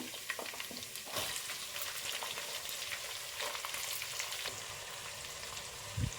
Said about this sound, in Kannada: ಈಗ ನಾವು ಈರುಳ್ಳಿ ಕೂಡ ಸೇರಿಸ್ಕೊಳ್ಳೋಣ